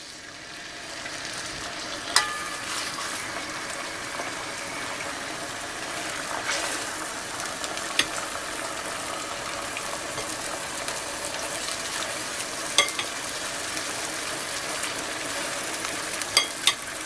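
About 1.5 kg of beef sizzles in a pot, frying steadily while a spoon stirs it, with a few sharp clinks of utensil against metal over the constant crackle; no one speaks.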